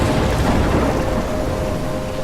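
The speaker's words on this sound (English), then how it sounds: "I'm trapped in a storm?" Steady thunderstorm ambience from the video game Life Is Strange: continuous heavy rain hiss with a low rumble of thunder, loud and dense throughout, with no voices.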